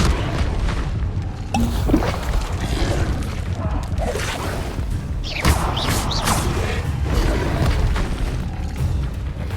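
Spell effects from the Hogwarts Legacy video game, including Incendio and Leviosa, come as repeated magical booms, whooshes and crashing bursts over a constant dense rumble, with the hits landing irregularly throughout.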